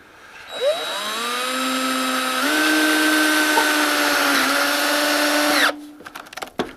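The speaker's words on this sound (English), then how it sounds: "these are drill tip metal screws" A power drill whirs steadily for about five seconds, its motor pitch shifting as it drives a drill-tip metal screw, then stops abruptly. Close and loud.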